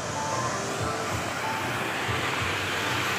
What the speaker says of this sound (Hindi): ये देखिए ऊपर से पानी आ रहा है इधर